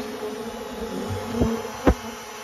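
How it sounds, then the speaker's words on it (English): A honeybee colony buzzes steadily during a comb cutout from a wall, a continuous dense hum with a couple of brief louder thumps or knocks toward the end. "I'm gonna vacuum the bees that are on the comb and get the comb cut out"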